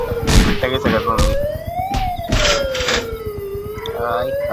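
In a zombie video game, an ambulance siren wails up and down in slow sweeps, loud and close, with bursts of game noise and excited voices over it.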